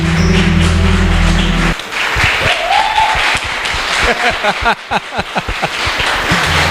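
A church congregation claps along. Music is playing at first, and then loud, sharp claps follow one another in a fast, uneven rhythm while voices call out over them.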